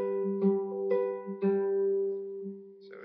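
Acoustic guitar fingerpicking the chord pattern of a song, a few sparse plucked notes ringing over a sustained low tone, close and soft, played alone.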